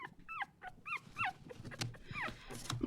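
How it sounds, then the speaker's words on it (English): A puppy whines in repeated high, rising-and-falling cries, several short whimpers in a row over light background noise, used as a video game sound effect. "let me go on our sound website again. The puppy whining sound."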